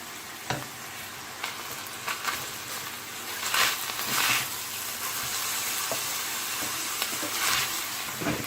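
Minced meat and onion fry in a pan with a steady sizzle and hiss, broken by occasional scrapes and clacks of stirring over about eight seconds.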